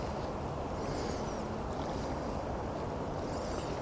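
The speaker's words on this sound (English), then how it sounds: "where the only noise you hear is the water running downstream." A river flows downstream past a trout fishing spot, giving a steady, even rush of running water that stays constant throughout with no voices.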